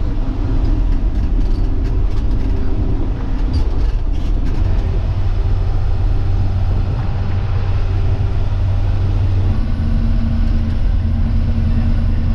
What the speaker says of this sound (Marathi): कोकण रेल्वे.